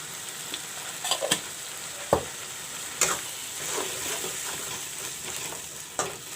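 Masala with dhania powder and turmeric frying in a pan for chicken jhol, a steady soft sizzle broken by a few sharp spatula clinks and scrapes.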